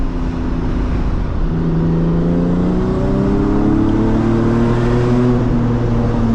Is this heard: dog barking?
no